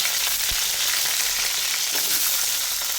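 Onion, green and dried chillies, tomato, split dal and curry leaves sautéing in hot oil for tomato chutney, a steady dense sizzle with occasional soft stirring knocks, no voices.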